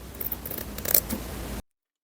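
Scissors cut through fabric for an air fryer cover, a brief close crisp snipping and slicing that lasts about a second and a half and then stops abruptly into silence.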